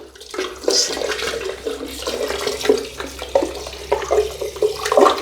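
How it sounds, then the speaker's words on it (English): Water runs steadily into a long bathroom floor drain fitted with a smart waste insert, a continuous splashing, gurgling flow close by with no talk. "the water flows in from all directions and it has a high flow into it"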